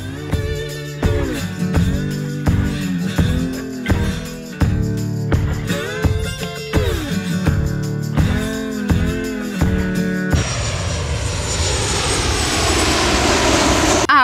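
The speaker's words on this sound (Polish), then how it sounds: "tutaj jest w pobliżu lotnisko i tutaj albo startują, albo lądują samoloty cały czas" An airplane near an airport, either taking off or landing, roars as a loud broadband engine rush that builds over the final few seconds, rising out of and then overwhelming strong tonal music that fills most of the clip.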